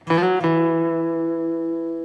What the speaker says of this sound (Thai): สาย 4 ช่องที่ 2 สไลด์มาช่องที่ 4 แล้วก็กลับไปช่องที่2นะครับจะได้เสียงนี้นะ